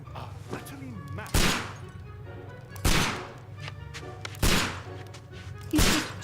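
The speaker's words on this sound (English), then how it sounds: "He's just shooting with a blindfold on." Four loud, sharp gunshots ring out at roughly even intervals as Holmes fires while blindfolded in the Sherlock Holmes Crimes & Punishments game, with a low ambient drone and faint voices underneath.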